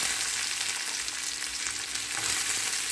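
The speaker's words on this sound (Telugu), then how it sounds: "ఇప్పుడు కొద్ది కొద్దిగా ఆయిల్ వేసుకుంటున్నానండి అలానే ఉల్లిపాయ వేసుకుంటున్నాను" Onions frying in oil in a pan for a Telugu fish curry gravy, a steady, dense sizzle with close crackling that holds at an even level throughout, no voices.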